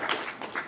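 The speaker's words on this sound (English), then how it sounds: "Clap for Edison." An audience at an investment forum plenary session in Newark claps briefly for a named guest, a short burst of scattered hand claps that sounds moderately close.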